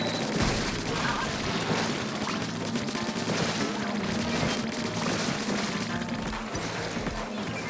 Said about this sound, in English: Oh, somebody already threw a bomb at him.